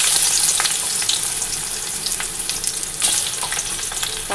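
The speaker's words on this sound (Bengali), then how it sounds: "সেই পাঁপড় ভাজা তেল রয়েছে, ওটার মধ্যে এই যে কাঁকরোল ভেজে নেব" Spiny gourd frying in a wok of leftover oil from frying papad, a steady close, loud sizzle with crackling pops throughout and no talking.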